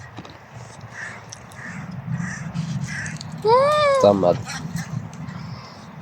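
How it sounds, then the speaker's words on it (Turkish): Crows cawing outdoors near a sushi meal, one loud close caw burst with a few harsh calls in the middle, with people talking and chewing around it. "Kargalar bastı buranı."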